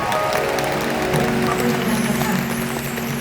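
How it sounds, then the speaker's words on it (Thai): A concert audience at the PIANO & i The Legends Party show applauds in a steady, broad roar, with faint sustained tones humming underneath the crowd's clapping. "ปรบมือขอบคุณผู้สนับสนุนนะครับ"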